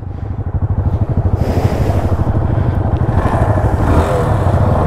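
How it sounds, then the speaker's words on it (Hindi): Yamaha motorcycle with an Akrapovic exhaust revving nearby, a loud throbbing pulse that rises into a steady, continuous roar. "उसमें भी एक्रापोविक का एग्जॉस्ट लगा हुआ है"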